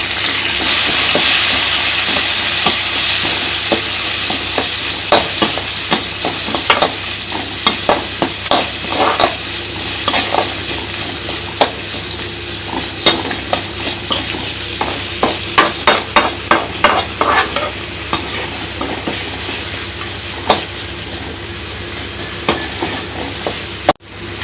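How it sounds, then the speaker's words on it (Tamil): Manathakkali greens, chopped tomato and tamarind being sautéed in a pan for chutney, with steady sizzling and frequent sharp spoon-on-pan stirring clicks and taps, close and fairly loud with no talking. "மணத்தக்காளி கீரை போட்டுக்கலாம். எல்லாம் வதக்கிட்டுக்கலாங்க."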